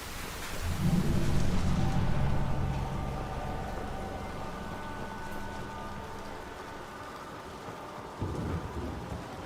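Rain and thunder in the video game Mass Effect 2: a long, low rumble of thunder swells at the start and fades slowly under a steady hiss of rain, with another soft rumble near the end.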